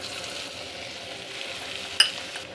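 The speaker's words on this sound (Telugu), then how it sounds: "పోపు ఇలా వేగుతుండగా కాస్తంత ఇంగువ యాడ్ చేసుకోండి" Tempering spices with asafoetida and crushed garlic sizzle in hot oil for a tamarind-leaf dal, a soft continuous crackle close by, with a brief sharp metallic clink near the end and no talking.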